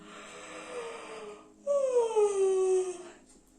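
A soft groan, then a louder drawn-out yawn whose voiced moan slides downward in pitch before fading.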